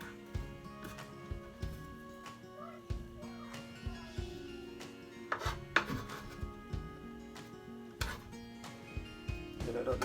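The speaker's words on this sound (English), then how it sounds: "just slice them up a bit" A knife slices plantains on a board, making a steady run of close, crisp chopping taps with a kitchen hum underneath.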